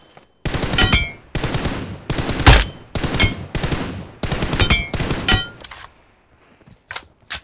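Automatic weapon fire in PUBG, repeated bursts of rapid shots about half a second apart, loud and close, followed by a short pause and two final single shots.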